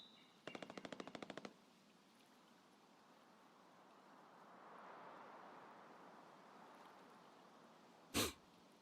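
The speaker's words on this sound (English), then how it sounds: "A little bit of gunfire in the distance." Distant gunfire in a survival video game: a rapid automatic burst of about a dozen evenly spaced shots early on, faint ambient wind after, then one sharp closer crack near the end.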